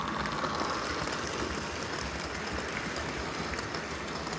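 A Lionel prewar 763E toy train engine in gunmetal gray, from a 1938 outfit, runs smoothly with a steady, soft whirring rattle that holds even and unbroken at a low level throughout.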